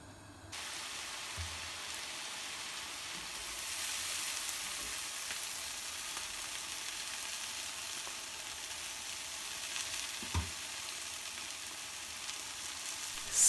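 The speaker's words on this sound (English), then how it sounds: "Sizzle." Schupfnudeln, German potato noodles, fry in a pan with blanched chopped cabbage, giving a steady close sizzle and hiss that holds evenly throughout, with a brief clatter near the end.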